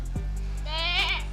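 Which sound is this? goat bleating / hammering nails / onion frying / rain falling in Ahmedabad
goat bleating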